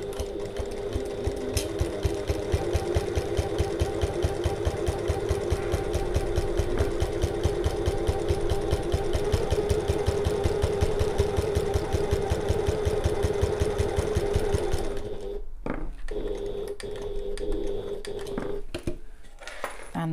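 A domestic sewing machine stitching a bag runs at a fast, even rhythm of needle strokes, close and steady for about fifteen seconds, then stops, leaving a few separate clicks and knocks.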